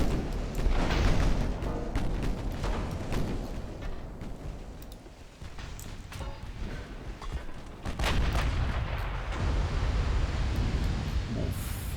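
Naval gunfire in the Ultimate Admiral Dreadnoughts game, with shells striking a warship's turret and bridge: repeated heavy booms and crashing impacts over a continuous roaring din, loud throughout.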